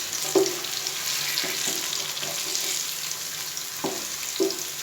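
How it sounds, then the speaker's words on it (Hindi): Whole spices sizzle quietly in hot oil: a bay leaf, star anise, cumin seeds and black peppercorns for a dhaba-style chicken gravy. A soft, steady hiss is broken by a few light knocks from a utensil. "इसको हम 30 सेकंड इसको बीच में फ्राई करेंगे।"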